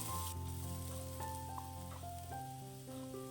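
Ground coconut paste sizzling in hot oil in a kadai over low heat, a steady soft frying hiss with light stirring, fairly quiet and without talk.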